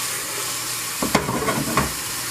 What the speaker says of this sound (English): throw that in with onions. Make sure you stir your meat.